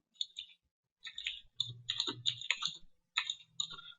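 Computer keyboard keys pressed in short bursts of crisp clicks with brief pauses between them, close and moderately quiet, while code is typed during Selenium training; no one speaks.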